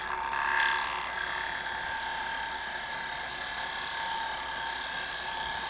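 A woodturning tool takes a very light cut on a spinning lathe, producing a continuous high-pitched whining, scraping hiss with a steady motor tone underneath, fairly loud and close, without talk.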